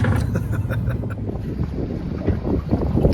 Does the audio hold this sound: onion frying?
no